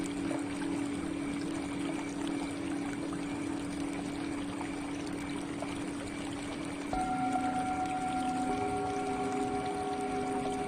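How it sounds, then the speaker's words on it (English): A steady, dense wash of waterfall water flowing over rocks rushes continuously, and partway through a sustained ringing tone rises in and layers over it. "the flow of the waterfall, the water touching the rocks"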